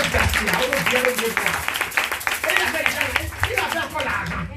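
A church congregation claps during a sermon on discipleship, a dense run of sharp hand claps mixed with voices calling out over it.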